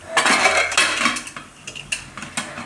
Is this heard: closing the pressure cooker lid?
yes